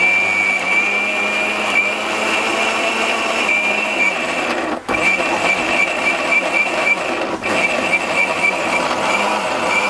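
A powerful Jaipan blender grinds ginger and garlic into paste, a loud continuous high-pitched motor whine with two brief dips where it pauses for pulsing.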